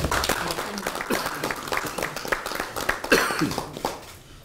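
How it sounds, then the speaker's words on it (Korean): Crowd applause at a political party meeting, a dense wash of clapping that runs the whole time, with some voices and murmur mixed in. "큰 박수."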